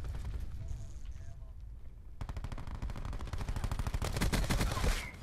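Rapid automatic fire from a VAPR assault rifle in Black Ops 4 multiplayer, a sparse quiet opening giving way to loud sustained bursts of gunshots that cut off abruptly near the end.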